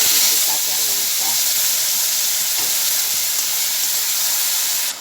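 Ginger, garlic and onion paste with green chilies and nigella seeds frying in hot oil, giving a steady, loud, broadband hiss and sizzle that holds evenly for the whole span with no talk.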